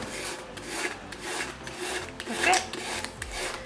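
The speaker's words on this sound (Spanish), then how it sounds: "aquí ya hemos raspado con la lija" Sandpaper scraping black paint off a surface for a distressed finish, a steady close rasping rub in repeated strokes with loud rhythmic bursts throughout.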